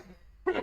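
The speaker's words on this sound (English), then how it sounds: "As I cough my lungs out" A single short, harsh cough close to the microphone, preceded by a near-silent pause.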